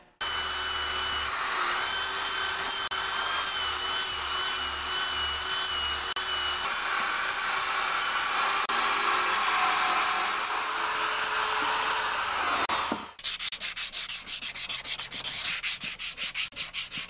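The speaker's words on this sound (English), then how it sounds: "I'm just going to grind it down with the wire brush on my drill" A wire brush spun by a power drill grinds against a John Deere 5/20 snowblower chute, a continuous loud whirring scrape for about thirteen seconds that cuts off abruptly, followed by a rapid buzzing rattle.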